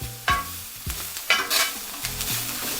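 Garlic softening in a hot pan with a gentle sizzle, punctuated by several sharp scraping and stirring strokes of a utensil against the pan, close up, no talking.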